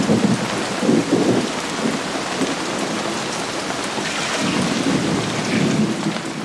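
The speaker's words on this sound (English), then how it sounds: "There's lots of thunder and lightning." Heavy prairie rain pours steadily on surfaces during a July thunderstorm, with low thunder rumbling beneath the dense hiss of the downpour, no voices present.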